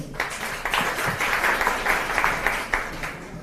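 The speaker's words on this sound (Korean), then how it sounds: "큰 박수 부탁드리겠습니다" An audience at a youth meeting in Busan claps steadily, a dense patter of many hands that holds for the whole stretch with a few sharper claps standing out.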